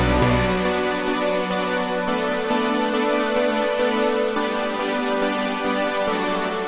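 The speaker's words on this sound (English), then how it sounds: "Next up would be buzzy chords, which sounds like this." Buzzy synth chords from Propellerhead Reason, part of a song recreation, ring out as a bright, dense sustained pad that holds steadily at full volume, with no voice over it.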